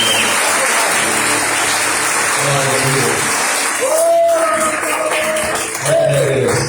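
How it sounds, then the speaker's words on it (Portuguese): A church congregation applauds loudly during a Sunday worship service, with sustained clapping and crowd noise throughout and some voices calling out over it. "Você pode levantar um aplauso mais forte aí."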